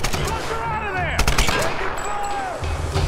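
Rapid bursts of gunfire from the Tomb Raider video game fight, a clustered volley near the middle of a busy, loud battle mix with chatter and music-like tones around it.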